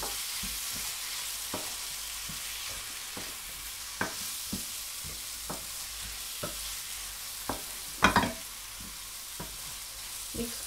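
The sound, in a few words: prawns frying and being stirred in tomato masala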